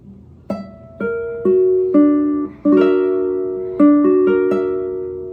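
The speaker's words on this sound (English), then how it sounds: "you have a Locrian natural 2 type chord that would sound like this" A Locrian natural 2 chord builds note by note on a piano-like instrument, each tone struck clearly and ringing, followed by a second arpeggiated voicing that sustains and fades.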